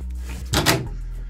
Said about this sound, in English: as the door shuts, I'll shut the door